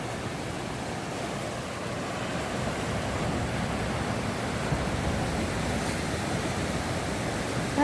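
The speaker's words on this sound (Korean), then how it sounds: "산처럼 달려오는 파도예요" Steady roar of ocean surf breaking on Heungnam Beach, broad and continuous with rolling swells, wind noise mixed in, no voices.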